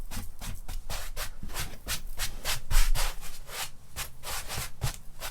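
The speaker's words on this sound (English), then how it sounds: "Once that salt is all worked in, I'll brush off all this excess." Stiff brush swept repeatedly across a salted animal hide being tanned by the dry flesh method, a steady run of close, scratchy rubbing strokes with no talk.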